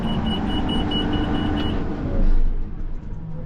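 A tractor engine runs with a steady, loud rumble and a whine. It then swells briefly and drops to a rougher, lower idle as it is shut down and restarted. No voices are heard.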